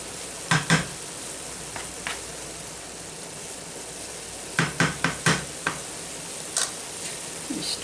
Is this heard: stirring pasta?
yes